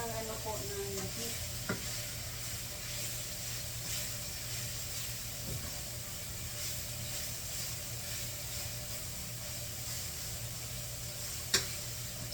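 Beef steak frying in cooking oil, a constant soft sizzle and crackle with a low hum beneath and a couple of sharp utensil taps, close and without talk.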